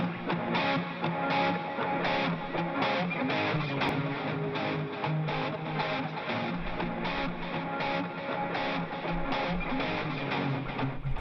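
A music sample with reverb applied plays continuously, with a regular beat and sustained tones sounding washed and spacious, the top end muffled, with no voices over it.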